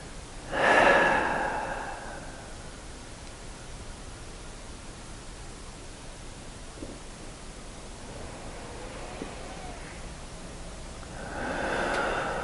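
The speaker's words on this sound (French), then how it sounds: "L'intensité de la respiration" Deep breathing during a Wim Hof breathing exercise: a strong, close inhale-exhale at the start and another at the end, with quiet hiss between.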